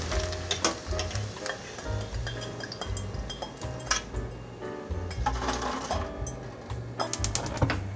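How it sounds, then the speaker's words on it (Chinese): Tofu deep-frying in hot oil in a pan, a quiet continuous sizzle and crackle with scattered clinks of chopsticks or utensils against the pan. "那再把它炸更硬一点。"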